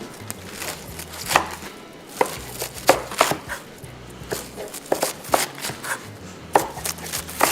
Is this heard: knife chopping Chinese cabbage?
yes